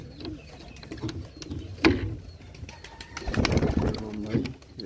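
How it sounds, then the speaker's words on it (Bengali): A pair of Rajshahi Giribaz pigeons coo close by in soft repeated phrases, with a sharp mechanical click partway through and a denser burst of cooing toward the end. "রাজশাহী গিরিবাস সুন্দর এক জোড়া কবুতর"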